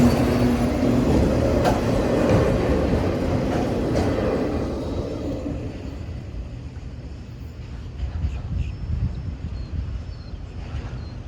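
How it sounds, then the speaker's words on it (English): A mixed freight train rolls past slowly at about 20 miles an hour, a steady loud rumble and rattle of wagons that eases slightly but keeps going throughout. "this is a mixed freight going at like 20 miles an hour."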